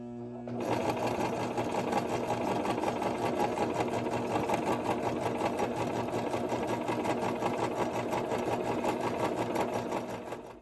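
A sewing machine stitches flannel and terry cloth towel for reusable paper towels, a steady, fast, rhythmic mechanical chatter running continuously for about ten seconds, close and alone.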